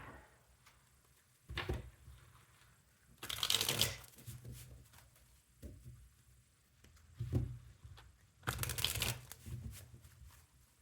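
Tarot cards being shuffled by hand come in several crisp riffling bursts separated by softer handling and tapping, close and fairly quiet, with no talk.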